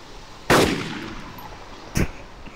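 Two gunshots ring out in the survival game DayZ, a loud sharp crack with a ringing decaying tail followed about a second and a half later by a second, slightly weaker shot, with no talk over them.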